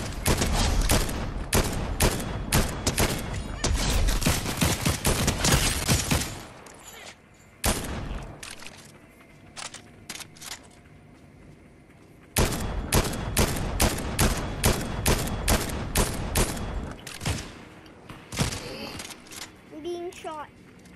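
Rapid gunfire bursts from the video game Fortnite, loud and dense, coming in long sustained volleys separated by a quieter lull, with players talking over the shooting.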